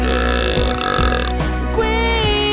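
A single loud, long burp rolls out in a sustained, throaty belch over continuous music from a comedic Italian song parody.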